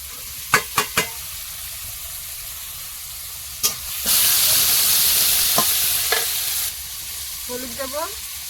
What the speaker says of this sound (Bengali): চিংড়িটাও এর মধ্যে দিয়ে দেবো